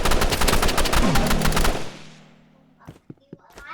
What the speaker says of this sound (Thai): อันนี้แหมปืนเขาแรงเต็มที่